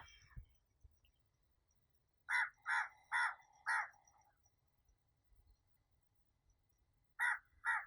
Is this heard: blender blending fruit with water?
no